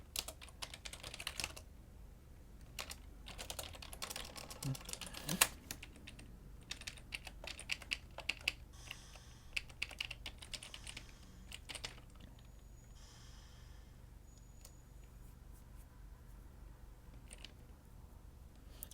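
Computer keyboard typing in quick, irregular bursts of clicking keys, close and fairly quiet, with short pauses between runs and no talk over it.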